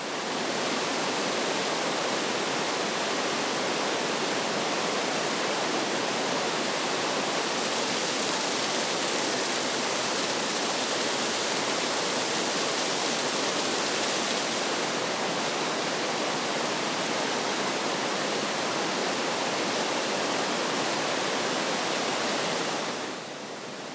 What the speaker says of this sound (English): And down the road, yet another waterfall.